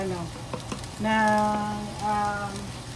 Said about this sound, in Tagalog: Nagbo-boil na.